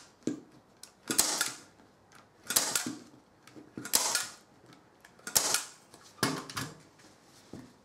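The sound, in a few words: staple gun stapling upholstery fabric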